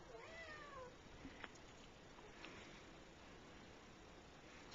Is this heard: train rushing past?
no